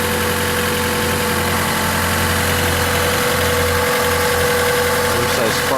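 Car engine with a mostly stock motor plus add-on parts such as oversized spark plugs, an aftermarket intake and a strut bar, idling loudly and steadily up close with a constant low rumble and a slight rhythmic knock.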